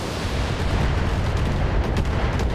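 Heavy weapons fire from battling mechs in the BattleTech video game, a dense continuous roar of booming shots and rumbling impacts, loud and close with no talk.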